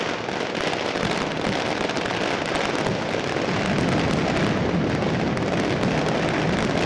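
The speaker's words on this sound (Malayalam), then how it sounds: "ഇരു വിഭാഗത്തിനും അവതരിപ്പിക്കാനായ കരിമരുന്ന് പ്രയോഗം വെടിക്കെട്ട്" A Thrissur Pooram fireworks display over Thekkinkadu, a dense continuous barrage of cracking bursts and booming explosions, loud and sustained without pause.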